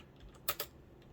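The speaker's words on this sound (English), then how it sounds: "what we're going to do is type in Game & Watch" Two quick, light keystrokes on a computer keyboard, typed into a browser search bar, heard close and fairly faint against a quiet background with no talk.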